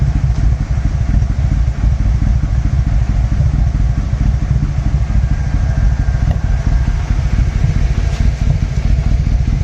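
A 1996 Yamaha Royal Star Tour Classic found in a garage idles steadily, its engine a loud, close, even low rumble with slight mechanical clatter throughout.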